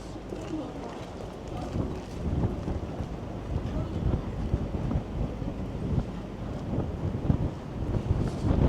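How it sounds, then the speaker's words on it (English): Strong gusty wind buffeting the microphone on a Toronto city street along Bay St, a heavy rumbling roar with irregular low-end thumps, continuous and close throughout. "Major winds. It's like a wind tunnel here."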